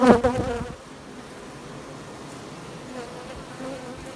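Honeybees hum in a low, steady drone at the hive entrance as they fan air through the hive to dry the nectar, preceded by a brief louder patterned buzz up close at the start.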